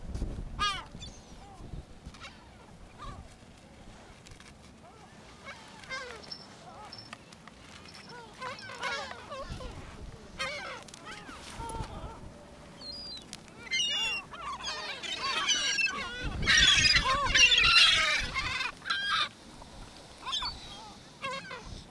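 Gulls calling with honking, squawking cries on a sandy beach by the sea, several birds at once, rising to a loud, busy burst of calls near the end, with a voice speaking at times.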